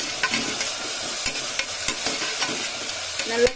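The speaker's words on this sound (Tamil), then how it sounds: "வெங்காயம் போட்டதும் கொஞ்சமா வெங்காயம் சீக்கிரம் வதங்கிறதுக்காக கொஞ்சமா உப்பு போட்டு வதக்கிக்கோங்க." Onions sauté with salt in a pan for chicken curry, a continuous close sizzle broken by the scrape and clatter of a spoon stirring.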